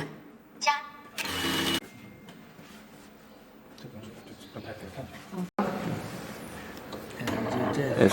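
A high speed computer lockstitch sewing machine with a double round knife runs in two short whirring bursts, loud and close. Someone talks over the quieter stretches, and steady mechanical noise returns near the end.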